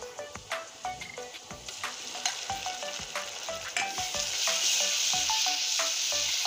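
Chili paste sizzles in hot oil in a pan for a Bengali rohu fish curry with potato and pointed gourd, a steady loud frying hiss with repeated sharp clicks and scrapes of stirring throughout.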